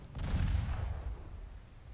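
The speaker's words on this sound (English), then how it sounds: "torpedo detonation" A torpedo detonates against a warship in Ultimate Admiral Dreadnoughts, a deep booming blast that rises fast and rumbles away over a couple of seconds, heard alone.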